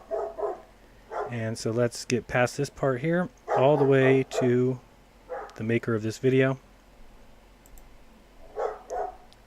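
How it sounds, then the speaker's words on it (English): A pet dog barks and yips excitedly indoors in several sharp bursts, mixed with someone talking over it. "Sorry about my dog. He's going crazy."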